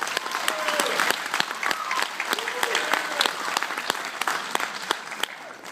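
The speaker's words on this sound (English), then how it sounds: "A round of applause for them" An audience claps steadily for students, a dense, sustained round of applause with whoops and voices mixed in, fairly close and continuous throughout.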